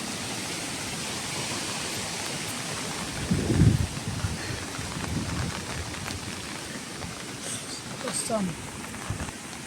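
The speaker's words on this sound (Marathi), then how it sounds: "ही काही नदी नाही आहे, हा ओढा एवढा" Water rushing along a small rain-fed village stream, a constant broadband wash with a brief louder splash partway through and faint rustling.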